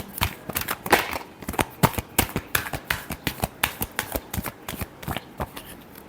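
Tarot cards being shuffled by hand, a steady run of crisp riffling flicks and taps repeating close by, with no talk over it.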